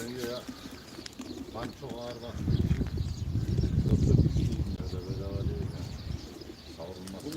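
Pigeons at a live auction of game pigeons coo steadily through the clip, with lower rumbling coos and bird calls mixed under ongoing crowd chatter and someone talking nearby.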